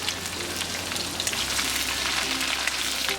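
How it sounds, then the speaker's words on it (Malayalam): Cardamom, cloves, cinnamon and chopped coconut sauté in hot oil in a pan for beef varattiyathu, giving a dense, steady close sizzle like light rain, with no voices. "ഇതോടൊപ്പം തന്നെ ഏലക്ക ഗ്രാമ്പു പട്ട തേങ്ങ ചെറുതായിട്ട് അരിഞ്ഞത് ഇത്രയും ചേർത്ത് നന്നായിട്ടിത് വഴറ്റി കൊടുക്കാം"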